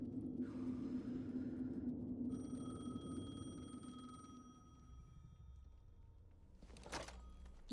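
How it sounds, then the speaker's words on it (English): A telephone ringing in the video game Alan Wake 2, a faint bell tone over low rumble that stops partway, followed by a short clunk as the receiver is handled. "The phone again."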